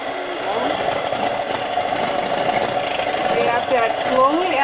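An electric mixer whirs steadily on a low setting as it blends carrot cake bar batter, with a constant motor drone and faint rattling while a person talks over it.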